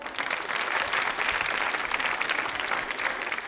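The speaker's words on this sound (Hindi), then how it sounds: "तालियां बजाइए।" Loud, full applause from a college audience at a film quiz show, dense rapid clapping from many people that holds steady throughout with no talking.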